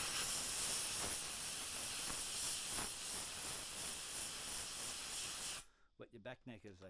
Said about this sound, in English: If you've got an air compressor, it's handy.